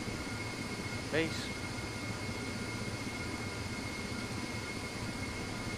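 Ka-50 Black Shark helicopter flown in the DCS flight simulator game, a steady rotor and engine drone that holds constant throughout, with a brief spoken word near the start.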